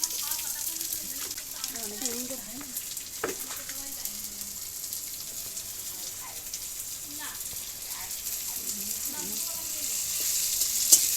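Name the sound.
onions frying in a pan for chicken biryani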